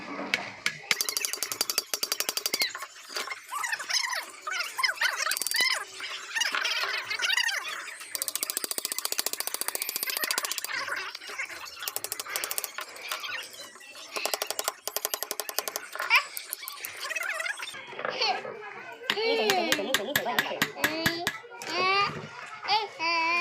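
A jammed, rusted Tullu water pump is pried open with a screwdriver, giving repeated close ratcheting clicks, metallic scrapes and grinding that come and go in bursts, with voices talking over parts of the work.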